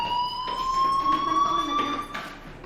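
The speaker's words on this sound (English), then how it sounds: "Hey, do you hear that fire alarm?" A fire alarm sounds in the video game Life is Strange, a loud sustained electronic tone with bright overtones that holds steady and then drops off near the end, with no talking.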